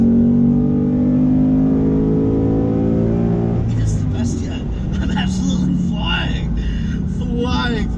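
A 2018 Ford Mustang GT with the Performance Package and 6-speed manual accelerates loudly, its engine note climbing in pitch for several seconds before settling into a road drone under a man's speech.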